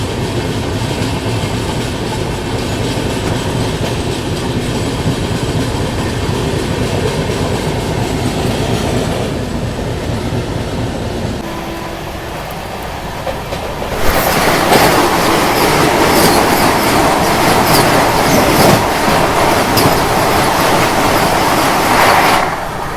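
The East Coast Express rumbles steadily along the rails in a loud, continuous roar with rhythmic clatter from the wheels. It dips briefly, then swells louder and brighter.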